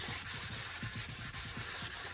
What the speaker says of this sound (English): we can get a pretty good eye sitting here sanding this